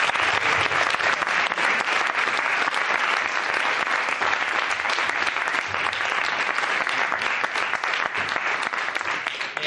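A hall audience at a Valencian book presentation bursts into steady, dense applause that holds at full strength throughout with no voices over it.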